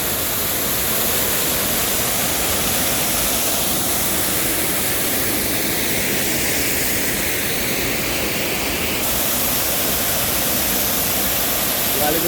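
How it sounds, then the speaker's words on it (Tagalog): Water pours down from above into a river on a summer outing, a steady, loud rushing roar that fills the whole stretch with no letup. "dyan na nga galing yung tubig"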